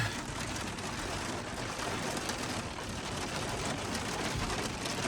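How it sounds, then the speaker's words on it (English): Rain falls steadily as a dense, even hiss, pattering on surfaces nearby, quiet and unbroken for the whole stretch with no voices. "I'm getting rained out."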